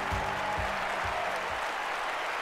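Stadium crowd applause in an Olympic Games London 2012 athletics video game, steady dense clapping and cheering with a few low thumps early on, continuous throughout.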